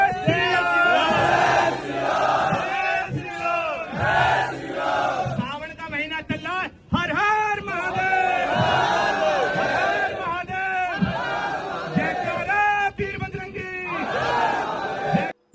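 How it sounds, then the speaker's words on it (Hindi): A large crowd at a crowded, hot gathering shouts religious jaikara slogans, many voices roaring together in loud, continuous chant-like bursts with a brief break midway. "एक बार जयकारे लगा दो।"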